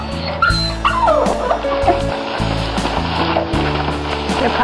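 Newborn puppies from a lap dog's litter whimper and yip in high, wavering cries, close and fairly loud, with a continuous low hum and faint background noise.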